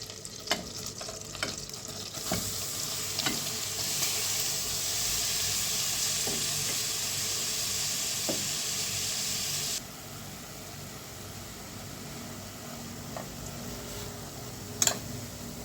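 Zucchini and carrot frying in melted butter in a pan, a steady bright sizzle and hiss with occasional stirring clatter, the hiss dropping noticeably partway through; no voices.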